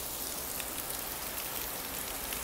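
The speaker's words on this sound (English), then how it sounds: "I just wanted to illustrate how bad rain season gets." Heavy rainy-season downpour on a street in Japan, a dense, steady hiss of rain pounding the pavement with no pauses, close and enveloping throughout.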